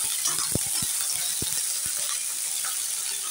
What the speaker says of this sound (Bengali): আর সজনেটাও ভালোভাবে ভেজে নেব।